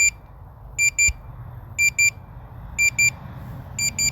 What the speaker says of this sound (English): Well, it's beeping now.